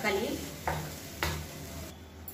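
Tomato masala sizzling in oil in a pan while being stirred, a soft steady frying crackle broken by a few scraping stirs of the spoon.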